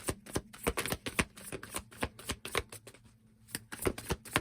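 Tarot cards being shuffled by hand, close and soft, a quick irregular run of crisp riffling flicks with a brief pause before the shuffling resumes; no one speaks.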